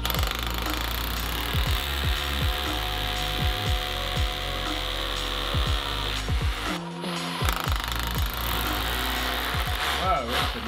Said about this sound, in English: Oh, we got the big drills out.